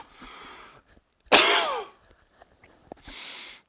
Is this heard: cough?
yes